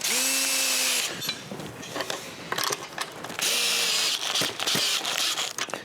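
Power-tool bursts drive the bolt back onto a double DI/RO water filter housing. Each burst opens with a rising whine and ends in rapid ratcheting clicks and knocks, with short pauses between bursts and no talking.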